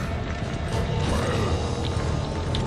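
A door mechanism opening in the Resident Evil 5 video game, a loud, continuous grinding creak of heavy gears and ratcheting machinery that runs unbroken throughout.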